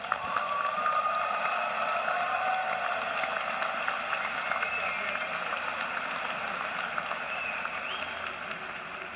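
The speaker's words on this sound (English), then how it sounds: "Let's all give these graduates a round of applause" A large audience at a university commencement applauds graduates, a sustained wash of clapping with a few louder individual claps, steady and continuous under faint background murmur.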